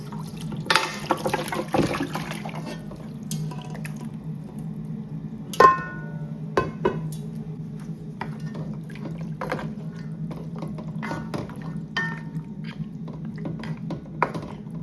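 Cow foot and pig feet for a Jamaican-style brown stew go back into a pot of liquid, giving a few sharp clanks and splashes over a low bubbling hum, with scattered small knocks and drips.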